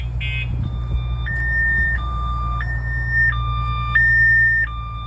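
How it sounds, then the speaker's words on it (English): RAM TRX pickup anti-theft kill switch alarm going off up close, a loud electronic siren that steps back and forth between two pitches in a steady repeating cycle over a low background hum. "You can hear that siren going off."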